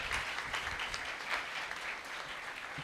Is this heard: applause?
yes